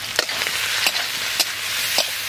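Spices frying in oil for Bengali steamed hilsa, with turmeric and chilli in the pan, give a steady close sizzle broken by a few sharp stirring clicks.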